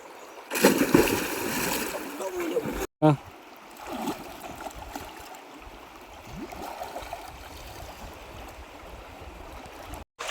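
Water splashes loudly as boys plunge into a river, followed by flowing river water and distant voices calling over the steady wash.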